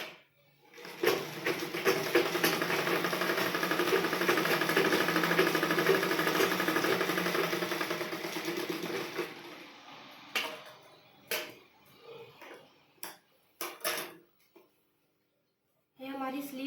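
Sewing machine running steadily while stitching sleeves onto a blouse, a continuous loud whirring for about eight seconds, then stopping, followed by scattered handling knocks and short bursts of fabric movement.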